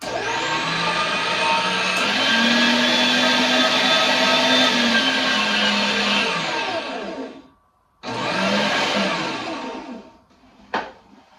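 An electric sausage grinder with grind, stuff and reverse settings runs with a loud whining motor hum. It cuts out, restarts briefly, then winds down, ending with a short clunk.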